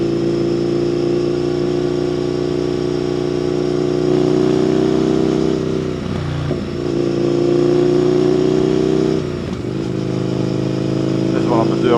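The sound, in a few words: motorcycle exhaust burble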